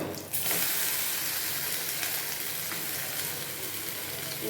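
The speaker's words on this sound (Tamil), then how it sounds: "சின்ன வெங்காயம் பொரிஞ்ச கொஞ்சம் கருவேப்பிலை, கருவேப்பிலை பொரிஞ்ச உடனே" Shallots and curry leaves fry in hot oil for a coconut chutney tempering, giving a close, steady crackling sizzle that stays strong the whole time with no talk over it.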